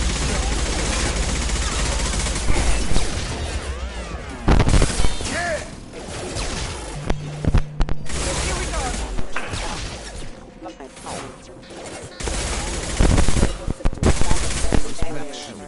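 Gunfire in the Mass Effect 2 video game at hostile mechs, with repeated loud bursts of shots and impacts mixed with game voices and effects.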